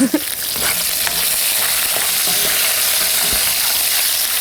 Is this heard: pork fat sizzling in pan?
yes